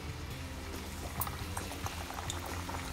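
Batura dough dropped into hot oil fries with a steady bubbling, boiling-like crackle, close and continuous with small pops scattered throughout.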